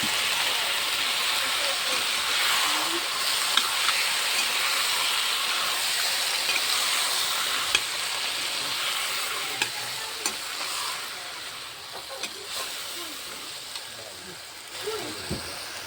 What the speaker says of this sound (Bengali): ভেন্ডিটা দিয়ে দেই